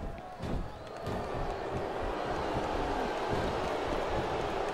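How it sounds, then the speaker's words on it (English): A crowd boos in a televised wrestling arena in the video game Smackdown Vs Raw 2007, a steady, distant wash of crowd noise that swells slightly after a brief thump at the start. "What are you booing for me for?"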